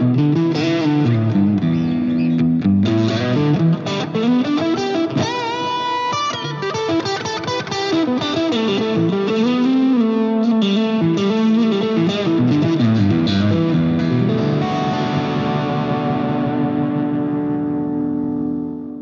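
An electric guitar through a Line 6 Helix drive channel plays a melodic run with mild overdrive crunch, notes ringing and sustaining, then fading out at the end.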